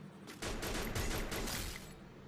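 Sustained gunfire bursts loudly from the Free Fire battle royale shooter game, a dense stretch of rapid automatic shots lasting most of the moment before tailing off.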